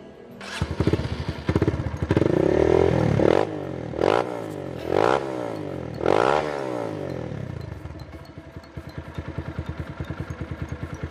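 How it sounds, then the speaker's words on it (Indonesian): A 2020 Kawasaki D-Tracker with an aftermarket Norifumi exhaust idles with a rough, bassy putter, then rises through several loud throttle blips before settling back to a steady idle. "Mantap, suaranya ngebas dan juga keras."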